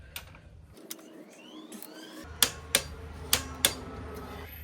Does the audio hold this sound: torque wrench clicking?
yes